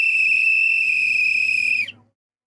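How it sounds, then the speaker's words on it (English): A referee's final whistle at a Portugal vs Croatia World Cup football match sounds as one long, loud, steady shrill blast lasting about two seconds before cutting off into silence. "Last final whistle."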